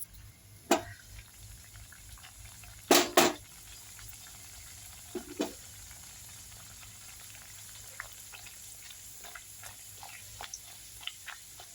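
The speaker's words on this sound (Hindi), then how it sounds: "अब ये तेल गरम हो गई है, अब इसमें ये पूरी डाल रही हूँ मैं।" Puris deep-frying in hot oil for a Bihari thali, a soft steady sizzle broken by a few sharp splashes and bubbling bursts as the dough hits the oil, with no talking.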